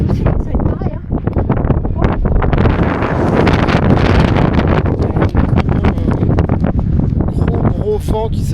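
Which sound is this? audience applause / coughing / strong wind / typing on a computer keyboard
strong wind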